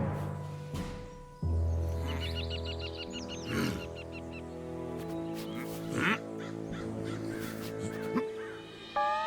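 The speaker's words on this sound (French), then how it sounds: "Oh là là, des corbeaux." Cartoon crows caw in a quick series of harsh, squawky calls from an autumn animated comedy, heard over a steady bed of orchestral music with several sharper accents.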